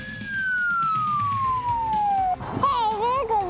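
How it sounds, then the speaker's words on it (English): A police car siren wails nearby, first a long falling tone, then rapid warbling yelps as the car passes amid traffic noise. "Hey, there goes a police car."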